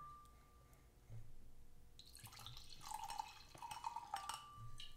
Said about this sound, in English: ASMR pour.